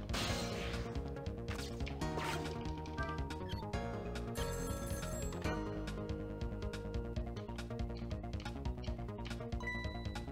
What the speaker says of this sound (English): Someone, please answer the phone.